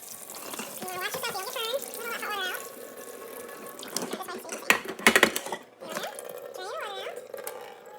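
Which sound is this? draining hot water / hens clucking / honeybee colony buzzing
draining hot water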